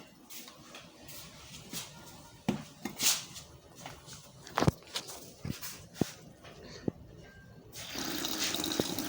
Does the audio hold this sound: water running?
yes